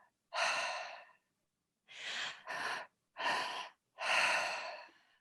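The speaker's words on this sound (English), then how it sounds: "a fast, strong breath in, a fast, strong breath in, and you're going to push a fast one out" Breathing exercise with quick, forceful nasal inhales and pushed exhales: five close, loud breath bursts in a clear rhythm, two short sniffs back to back between longer strong breaths, with silent gaps and no talking.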